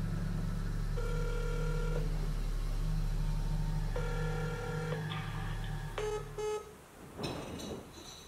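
A telephone call being placed late at night: a steady tone, then a series of repeated electronic ringback beeps in short bursts, followed by quick dialing blips and a brief rustle at the end.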